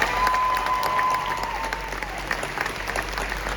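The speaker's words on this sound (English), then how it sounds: "How about another round of applause for our epic stunt team?" A live audience at a stunt show at Disney's Hollywood Studios applauds for the stunt team, a steady wash of clapping with some crowd noise throughout, while a faint whistle-like tone sounds early.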